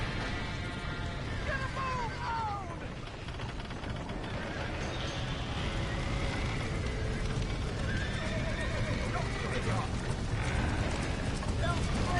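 Horses in the video game Red Dead Redemption whinny and neigh over steady galloping hoofbeats, with voices shouting in the background amid constant noise.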